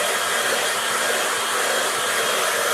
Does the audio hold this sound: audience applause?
no